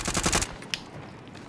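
Automatic gunfire in Call of Duty: Modern Warfare, a short loud burst of rapid shots that cuts off quickly, followed by a quieter tail with one sharp crack.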